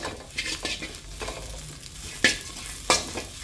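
String hopper kottu chicken is stirred and fried in a hot pan, with a steady sizzle under repeated scraping strokes and two sharp metallic clanks near the end, close and with no voices.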